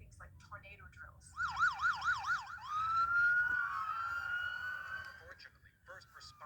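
Emergency vehicle siren wails at a distance after a mass shooting at the Kansas City Chiefs victory parade, rapid yelping cycles shifting into a long steady wail over street noise.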